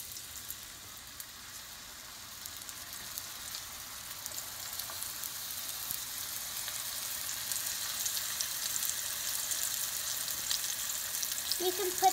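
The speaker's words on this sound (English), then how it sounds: "I'm gonna put the onions in the pan" Onions fry in a pan on medium-low heat, a soft steady sizzle that builds gradually in density over several seconds, close but fairly gentle, with a brief clink near the end.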